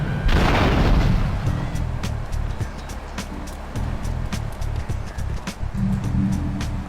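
A hand grenade blast in GTA3 bursts out loud and close near the start, then settles into a rumbling, noisy din with scattered sharp cracks and faint voices.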